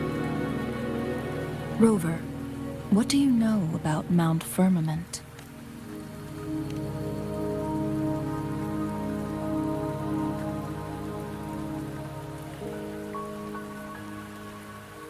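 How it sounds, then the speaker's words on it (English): Steady rain falling on surfaces throughout a mountain scene in the video game Wuthering Waves, a continuous hiss under a few spoken lines of dialogue near the start. "Don't worry, the rain won't last much longer."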